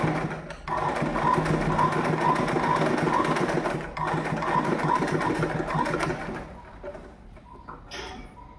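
A sewing machine stitches a folded half-inch hem on a uniform skirt: a loud, close, rapid mechanical whirring in two long runs with a brief pause, then a quieter stop and faint handling sounds, no talk.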